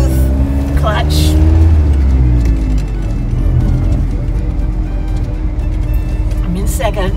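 A 1986 Ford Ranger with a manual gearbox drives and changes gears, its engine pitch rising and falling under loud in-cabin talk.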